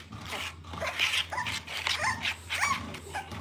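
A hungry dog whimpering and whining for more food after a meal of mush, a run of high, wavering whines and soft yips repeating close by with no talk.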